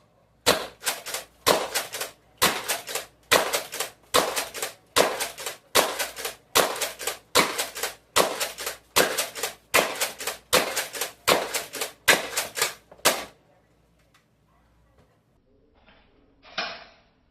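A Max Striker 2.0 blaster fires a long, steady string of about eighteen sharp, snappy shots, roughly one every three-quarters of a second, then stops, leaving near silence and a faint clatter at the end.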